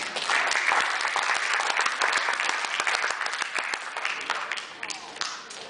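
An audience at a fundraiser show claps loudly, individual sharp hand claps standing out near the front of a dense wash of applause that gradually tapers off.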